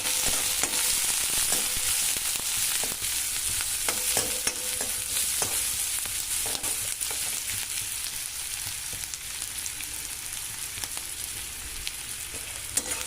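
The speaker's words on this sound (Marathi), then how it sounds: "आता आपल्याला हे छान असे गुलाबी कलर येईपर्यंत भाजून घ्यायचं आहे कांद्यातला कच्चापणा पूर्ण जाऊ द्यायचा" Onion frying in oil in a pan for karadi leaf bhaji, a steady sizzle running throughout with repeated scraping stir strokes, close and continuous.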